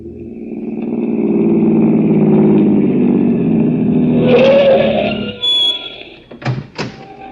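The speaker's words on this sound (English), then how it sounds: "Winnie Roberts, let's go for a drive." A car engine revs and drones loudly as the vehicle pulls away, fading out, followed by a couple of sharp thuds.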